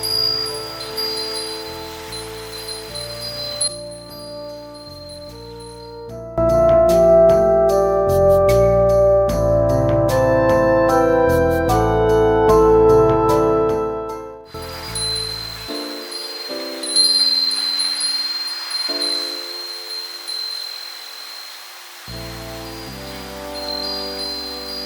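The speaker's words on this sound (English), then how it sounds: "At Kawagoe Hikawa Shrine, you can enjoy wind chimes from July to September." Glass wind chimes tinkle at a Japanese Shinto shrine, Kawagoe Hikawa Shrine, where thousands hang in summer, a soft continuous high ringing mixed with gentle background music.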